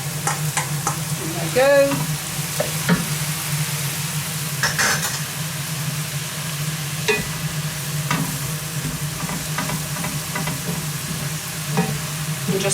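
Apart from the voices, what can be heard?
leeks and mushrooms frying and being stirred in a pan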